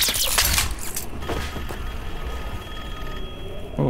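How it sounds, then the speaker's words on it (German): A telephone in Call of Duty: Black Ops 6 rings with a bright, jangling bell tone for a moment, then fades into a quiet electronic hum before another brief burst at the end. "Oh, ein Telefon."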